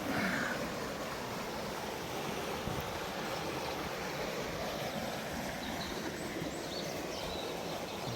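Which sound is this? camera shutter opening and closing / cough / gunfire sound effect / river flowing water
river flowing water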